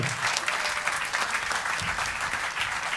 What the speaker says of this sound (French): On peut l'applaudir, papa de Stéphane.